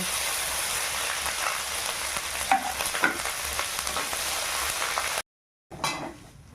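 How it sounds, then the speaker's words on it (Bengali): Whole cumin, cumin paste and ginger paste frying in oil for a vegetarian aloo dum make a steady close sizzle with a few stirring clatters, then a brief silent cut before the sizzling returns. "গোটা জিরে দিয়ে দেবো জিরে বাটা আদা বাটা"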